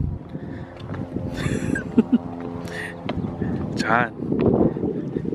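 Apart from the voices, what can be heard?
strong wind outdoors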